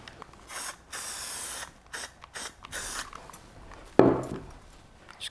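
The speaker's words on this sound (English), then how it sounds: "Obviously I'm going to be using a non-chlorinated spray adhesive." Non-chlorinated spray adhesive hisses from a can in upholstery work, in several short, fairly close bursts separated by pauses, followed by a sharper clatter.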